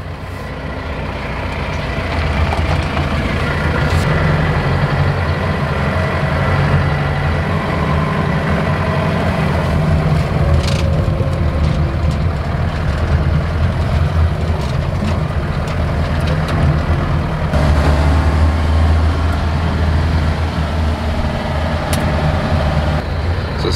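A Mahindra Roxor utility vehicle's engine idles along steadily while driving in second gear, a continuous close rumble with faint hisses and clicks, and no one speaking.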